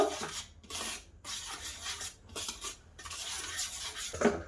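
One cup of flour being mixed into beaten sugar and egg in a bowl, heard as repeated scraping and rubbing strokes of a utensil against the bowl in a steady rhythm, fairly quiet and close, with no voices.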